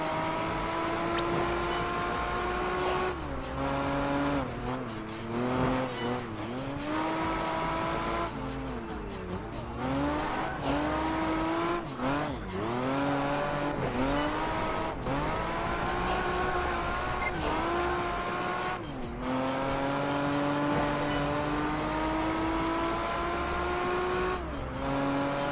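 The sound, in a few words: race cars racing in Project Gotham Racing 4 video game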